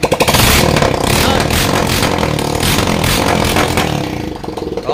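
A TVS Apache 150 motorcycle with a freshly rebored engine revs loud and close, a rough, rattly roar that holds high before easing off near the end.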